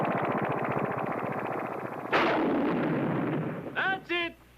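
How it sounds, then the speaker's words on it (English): Explosive charges go off on a miniature film set as a dense rumbling roar, then a sharp louder blast that slowly decays, followed by brief tonal effect sounds near the end. "Ready with the miniatures. Fire the charges,"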